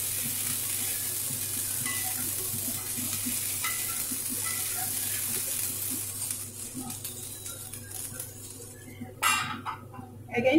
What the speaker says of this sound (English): Stir it occasionally.